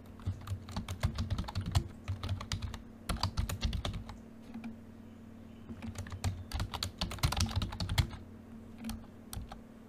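Rapid typing on a computer keyboard while filling in a data entry job profile, dense bursts of near, crisp key clicks in uneven runs with brief pauses, under a steady low hum and no talking.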